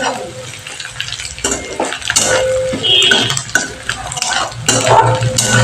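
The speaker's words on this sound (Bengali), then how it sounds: "লঙ্কা কুচি আর রসুন কুচিটাও আমি হালকা করে একটু ভেজে নেবো পেঁয়াজের সাথে।" Chopped chilli and garlic frying with onion in a pan for white sauce pasta, a steady close sizzle with repeated stirring and utensil scrapes against the pan throughout.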